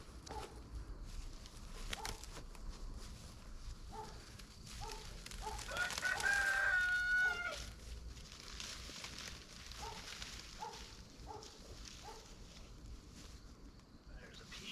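Backyard chickens near a snow fence give soft, intermittent clucks, with a louder, drawn-out crow in the middle, fairly faint under outdoor background noise.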